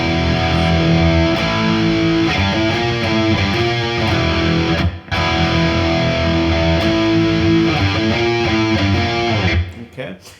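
Heavy distorted electric guitar riff, second part, loud and continuous chugging power chords in a driving rhythm, with a brief dropout midway and a fade near the end.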